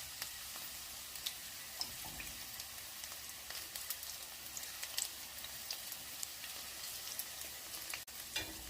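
Onion bhaji batter fries in a pan of hot oil, a dense, continuous sizzle dotted with sharp crackles and spits, close and steady throughout without any talking.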